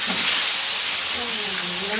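Fish fry in a pan as they are turned over, producing a bright, steady sizzling hiss close by, with faint tonal sounds underneath.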